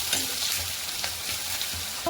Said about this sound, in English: I am going to stir it well.